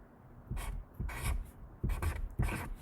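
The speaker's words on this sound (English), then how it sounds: "you want to write the label to your tool" A pen scratches out a label by hand on a homemade reading tool, four short bursts of scribbling separated by brief pauses, close and quiet.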